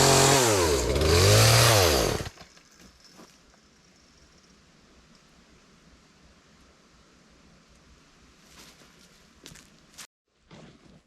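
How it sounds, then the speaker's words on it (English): A chainsaw cutting and trimming a tree revs loudly for about two seconds, rising and falling in pitch, then cuts off, leaving quiet outdoor ambience with faint rustles and a couple of brief knocks. "So I'm going to go ahead and eliminate that tree, trim it up, and make it just easier to get through here."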